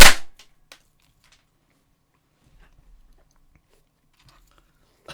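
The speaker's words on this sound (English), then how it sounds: "Right, first party pop of the evening." A party popper bursts with a single loud, sharp bang right at the start, then a few faint rustles and small knocks follow in near silence.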